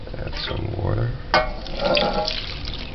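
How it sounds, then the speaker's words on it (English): Tap water runs into a cooking pot over salt mackerel for a stew, a steady close splashing pour with brief bumps, while a person talks over it. "Add some water,"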